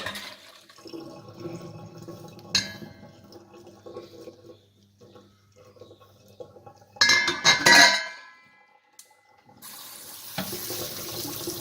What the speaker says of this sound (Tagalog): That's how I drain my pasta.